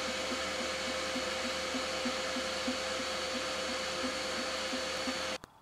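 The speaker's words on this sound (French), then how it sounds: "je vais graver un bout d'os" An Ortur Laser Master 3 engraves a piece of bone, giving off a steady whirring fan hum with a faint repeating pulse as the head moves, running continuously before cutting off abruptly.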